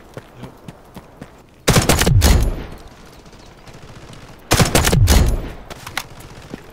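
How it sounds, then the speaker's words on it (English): Gunfire in the Delta Force video game comes as two loud, close bursts of rapid automatic fire, each lasting under a second and trailing off with echo, separated by a quieter stretch. "Oh shit, they're shooting me in the ass."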